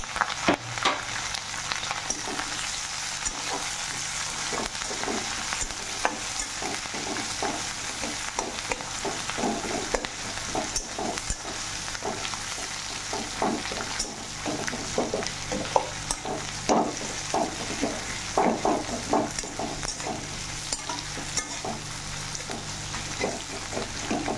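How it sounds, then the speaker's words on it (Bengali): Chopped onion and green chilli fry in hot oil in a pan, giving a continuous dense sizzle with constant scraping and stirring strokes throughout, close and steady with no talk. "এখন পেঁয়াজ কুচি দিয়ে দিলাম, কাঁচা লঙ্কা দিয়ে দিলাম। এগুলোকে ভালো করে ভেজে নেব।"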